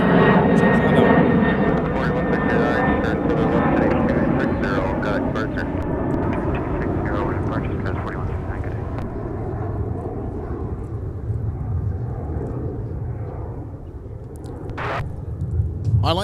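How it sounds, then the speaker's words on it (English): Airliner climbing steeply after takeoff from Minneapolis–St. Paul airport, a loud broad engine roar that slowly fades as it departs, with people talking over it. "I like those steep climb outs, Logan, the really sporty takeoffs."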